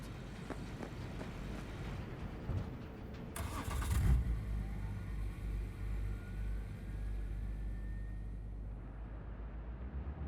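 Car engine in Cyberpunk 2077 running steadily at mid pitch as the vehicle drives off, a brief louder burst of revving partway through, then a continuous low hum that carries on to the end.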